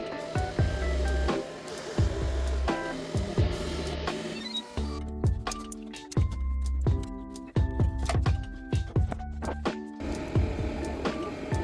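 A 3D printer works on a large fire-shaped base piece, giving off a busy run of stepper-motor whines, short buzzing moves and soft clicks in an irregular rhythm, close by and with no voices.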